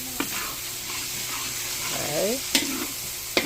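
Garlic sautéing in a pan for ginisang munggo (Filipino mung bean stew), a steady frying sizzle with stirring scrapes and a few sharp utensil clinks, under a brief spoken word.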